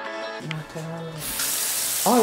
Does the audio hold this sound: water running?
yes